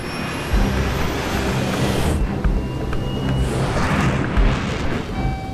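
A Concorde jet accelerates along a 2.5-mile runway on takeoff, its engines producing a heavy, continuous roar with deep rumble and rising whine that stays loud throughout.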